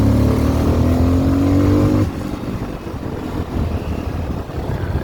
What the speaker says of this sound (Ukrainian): Він так плавно розганяється.